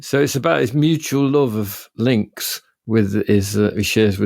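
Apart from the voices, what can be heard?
No distinct noise like a dog, phone or traffic.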